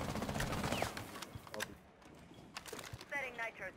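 Gunfire in a military shooter video game, scattered quick shots and short bursts, fairly faint and distant, mixed with game voices talking.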